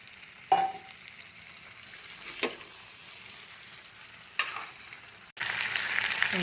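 Chicken pieces and potatoes half-fried together in a pan give a quiet sizzle, broken by a few sharp clinks and scrapes of stirring, before the frying swells louder near the end.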